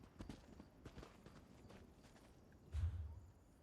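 A horse's hooves in the video game Elder Scrolls Online, a faint irregular clip-clop of steps with a heavier thump near the end, quiet and alone.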